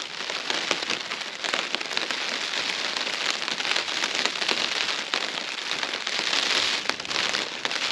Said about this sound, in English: Raining again to cap off day 3.